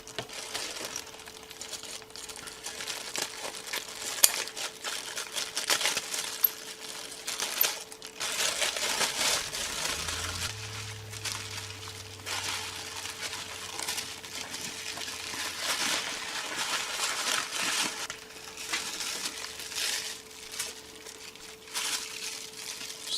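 Intermittent crinkling and rustling of little plastic bags as a large bag of AliExpress mail is unpacked, with small handling noises and a low steady hum in the background and no talking.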